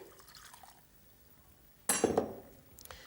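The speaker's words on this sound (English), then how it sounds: "And then you can add the rest of the fish stock, pour that in." Fish stock poured into a pan for smoked haddock chowder: one short, close splashing pour with a few drips and a faint clink, starting after a quiet stretch and ending in under a second.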